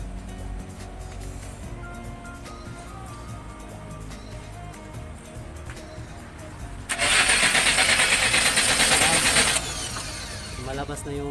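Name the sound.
diesel loader engine cranking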